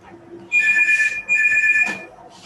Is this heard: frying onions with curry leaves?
no